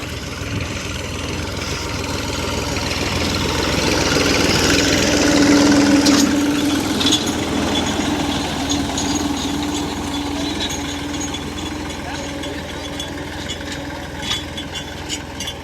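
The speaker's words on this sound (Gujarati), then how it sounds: "અનિલભાઈ ટ્રેક્ટર દબાવીને મેલ દીધું છે" A tractor engine idles steadily with a low, vibrating hum that swells slightly midway, then settles, with no talking.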